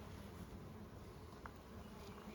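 Honey bees buzz steadily around an open Layens beehive, a dense, continuous hum close by, with no talking.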